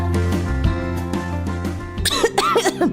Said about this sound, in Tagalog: Ubo, plemang nakabara, hirap sa paghinga.